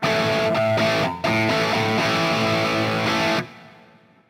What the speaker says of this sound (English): But this is the sound of the OD-1.